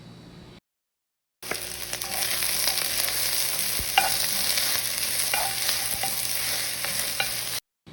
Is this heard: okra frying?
yes